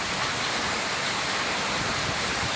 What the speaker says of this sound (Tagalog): kahit na napakalakas ng ulan